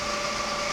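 A Bridgeport 2HP 9x48 milling machine runs with its power feed engaged, giving a smooth, steady mechanical hum with a faint tonal whine, close and even for a brief moment.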